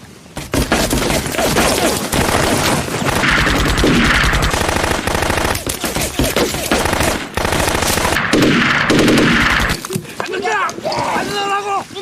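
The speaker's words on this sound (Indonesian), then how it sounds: "mereka langsung disambut dengan tembakan dari penduduk lokal" Rapid bursts of gunfire from locals in a bamboo forest during a film scene, loud and sustained over about twelve seconds with dense overlapping shots, a few brief pauses, and shouting voices mixed in.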